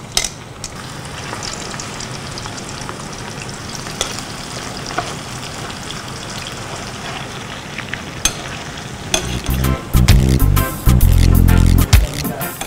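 Pork frying in oil in a thick stainless steel pan over a gas flame gives a steady loud sizzle, followed near the end by clattering and scraping of a utensil in the pan.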